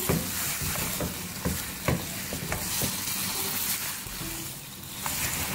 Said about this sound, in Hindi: चिकन को हम जिंजर गार्लिक पेस्ट में फ्राई करेंगे।